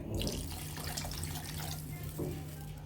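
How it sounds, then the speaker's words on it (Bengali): Water poured into a pan of sautéed greens being cooked, a steady splashing stream that runs unbroken for a few seconds, close and fairly loud, with no talking. "জল দিয়ে দেব আমাদের"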